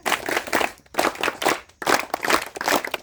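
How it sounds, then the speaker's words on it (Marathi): Three loud bursts of group clapping in unison from campers at an outdoor summer camp, each burst about a second long and separated by brief gaps, close and crisp. "3 टाळ्या. 1 2 3 स्टार्ट."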